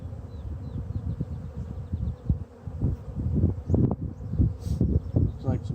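Honey bees buzz around a hive beside an empty dead-out hive that may be getting robbed, with sugar syrup set out nearby; a steady close drone of wings with scattered louder passes, under faint talk.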